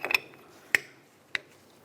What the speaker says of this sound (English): We'll use a 17mm flare head wrench and try to break the flex hose free from the caliper itself.